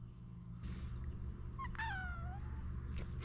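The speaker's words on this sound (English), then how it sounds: "That was the weakest, most pathetic meow ever" A house cat named Edmund lets out a single thin, weak meow with a rising-then-falling pitch, heard close up over a steady low background hum, with a couple of faint squeaks around it.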